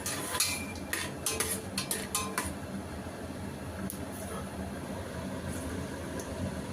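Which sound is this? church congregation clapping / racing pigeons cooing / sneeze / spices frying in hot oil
spices frying in hot oil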